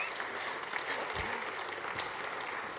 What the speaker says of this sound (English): Can you applaud?